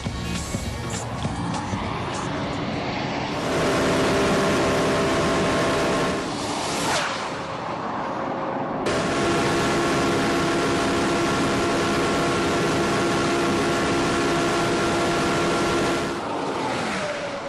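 A Porsche Carrera GT at speed on the Nardò test track, its engine holding steady high-pitched tones with gear shifts and passing changes, heard loud inside the car with light wind noise and no talk.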